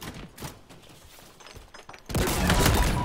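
Machine gun fire in Halo Infinite, a sustained rapid burst that starts abruptly partway through and stays loud to the end, preceded by quieter scattered game noise.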